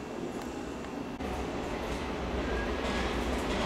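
A short two-car train passing close by on a line near Beppu, a steady loud rumble of wheels and engine with a faint high squeal near the end, no voices.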